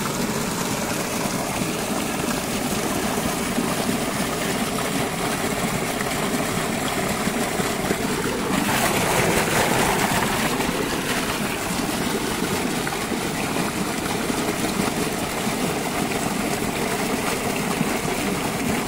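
Water pours steadily into a pesticide spray tank being filled for a sugarcane field, a continuous gushing wash that swells briefly midway and carries on without talk.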